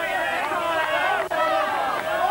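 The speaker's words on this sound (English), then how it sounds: "It's a tremendous crowd here at Alton Towers." Crowd at an Alton Towers strongman event, cheering and chattering as a dense babble of many voices under an announcer's voice.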